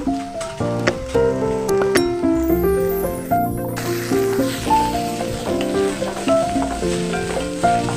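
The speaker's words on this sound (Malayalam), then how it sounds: "ആദ്യം നമ്മളിതൊക്കെ ഒന്ന് വഴറ്റി വെക്കുന്നതാണ്" Ginger and onions sauté in a pan for Indian-style macaroni pasta, giving a steady close sizzle that runs under louder background music the whole time.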